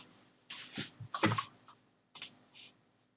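A computer keyboard clatters with a few quick bursts of close key presses as numbers are typed, separated by short silent gaps.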